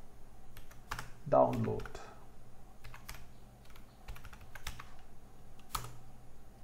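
Typing on a computer keyboard while searching for t-shirt designs, with sparse, quiet key clicks spread across the clip and a brief spoken word in the middle.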